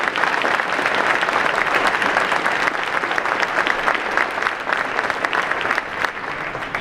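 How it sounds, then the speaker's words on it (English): An audience at a talk on community healing gives sustained, even applause for a medical speaker, dense clapping filling the room for several seconds without any voices. "Let's give Dr. Evans a big round of applause."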